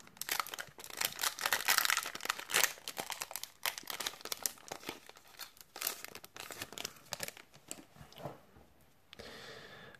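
Dragon Ball Super card game booster packs being torn open, with repeated crinkling and tearing of foil wrappers, close and fairly loud, no talking.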